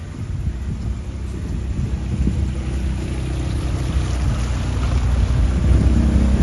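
A boat moves slowly across the water at Poovar, with a steady low engine rumble and wash that builds gently, heard close and continuous with no voices.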